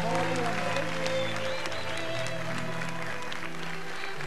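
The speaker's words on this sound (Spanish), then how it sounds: "les pido un fuerte aplauso" Studio audience applause on a Paraguayan children's talent competition show, a steady dense wash of clapping heard over background music with some faint voices mixed in.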